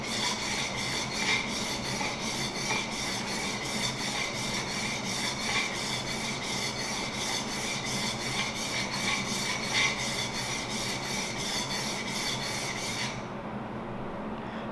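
A plane iron is honed on a superfine sharpening stone in steady back-and-forth strokes, producing a continuous rhythmic rasping scrape that runs close and loud without talk, then stops just before the end.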